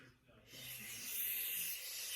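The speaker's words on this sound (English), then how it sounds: "you keep spraying and you don't want to stop" A long, soft hiss of setting spray being sprayed, starting after a brief pause and continuing steadily close by at a low, airy level.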